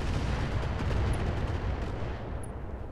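Incendiary weapons fire in the mech combat game Roguetech as a dense, continuous roar of booming blasts and rumbling fire, loud and unbroken throughout with no talk over it.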